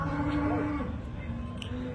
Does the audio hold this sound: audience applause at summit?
no